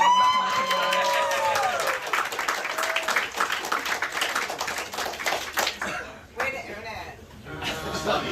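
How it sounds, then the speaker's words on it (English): An audience at a live comedy-style show claps and cheers at length, a dense crowd applause with some laughter running under a voice that talks over it. "Let's clap for him."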